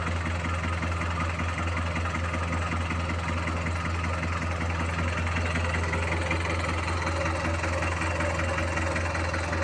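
A six-wheel Isuzu NKR truck with a 110-horsepower engine idles steadily and close by, a continuous low, even rumble with a faint knocking texture and no talk over it.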